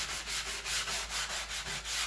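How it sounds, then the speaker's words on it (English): Steady back-and-forth rubbing of hand sanding on wood furniture coated in clay-based paint, with about eight even strokes, close and soft, and no talk. "I have to sand and wax"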